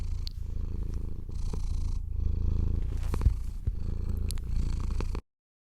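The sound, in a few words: contented domestic cat purring, played sound bite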